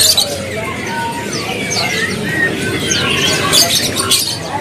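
Bright chirps and trills from small caged songbirds at a bird market in Indonesia, busy and fairly loud, over a murmur of background noise.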